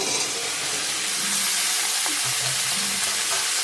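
Potato and pointed gourd frying in a pan for a rohu fish curry, a steady dense sizzle with occasional stirring scrapes and no talk.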